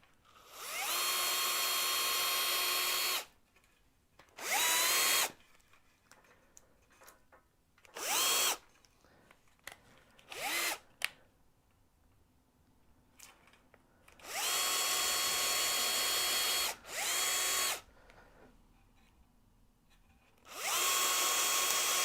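A power drill drives screws into a rocket rack in short whirring bursts of one to three seconds, about half a dozen of them, separated by quiet pauses, loud and close with no talking.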